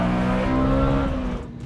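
A manual BMW E46 M3 with its straight-six engine revs loud and close, a steady sustained tone holding through most of the stretch before easing off near the end.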